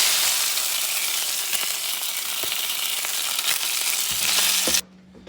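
Cod and scrambled eggs sizzle and fry steadily in a pan, a continuous hissing crackle with occasional stirring scrapes, cutting off abruptly near the end.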